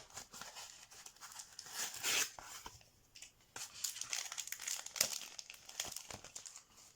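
Yu-Gi-Oh booster packs from Le code de l'éternité being torn open by hand, quiet close crinkling and ripping foil wrappers in uneven bursts, no talk.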